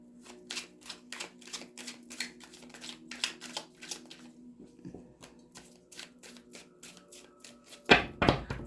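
Horror Tarot cards are shuffled in quick, crisp riffling bursts, then split into three piles with soft taps, and a sharper slap comes near the end.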